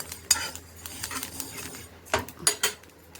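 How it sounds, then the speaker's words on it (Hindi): Whole spices are dry-roasted in a kadhai, a spoon scraping and clanking against the metal in a few close, uneven strokes with light rattling between them. "तो इसमें हल्का हल्का सा रोस्ट कर लेते, ज़्यादा नहीं भूनना, हल्का हल्का सा भूंजूंगी"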